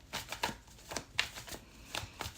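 Playing cards being shuffled, a quick series of soft riffling bursts in an uneven rhythm, close and quiet, with no voices.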